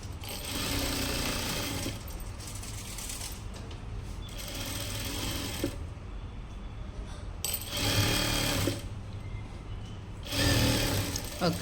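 Sewing machine running straight stitches along the lower border of a lining blouse, steady motorized whir in several bursts with short pauses between them, close and clear with no talking.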